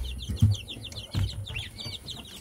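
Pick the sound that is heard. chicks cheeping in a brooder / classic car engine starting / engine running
chicks cheeping in a brooder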